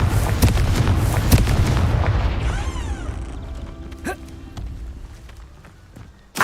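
Confringo blasting curse explosion from a Harry Potter game: a dense run of booming blasts and impacts in the first half, then quieter rumbling with a few sharp cracks and one final loud hit at the end.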